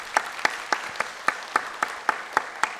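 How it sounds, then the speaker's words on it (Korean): A church congregation applauds at a steady, even rhythm to welcome a new choir accompanist, the massed claps sounding full and close in a large room. "우리 박수로 환영해 주시기를 부탁드립니다"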